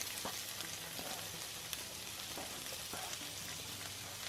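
Chopped white onion fries in a pan for a tuna pasta, giving a steady, dense sizzle with occasional light stirring taps, close and continuous with no talk.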